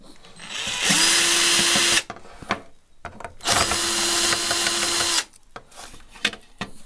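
An electric drill whirs in two sustained bursts of about a second and a half each while unscrewing the screws of a Solid HDS2 set-top box, with clicks and handling noises between the runs.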